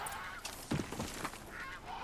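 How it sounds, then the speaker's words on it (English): Geese honking in the Horizon Zero Dawn video game, a faint scattered flock calling in several overlapping bursts over a soft ambient background, with no speech. "Duckies! Geese!"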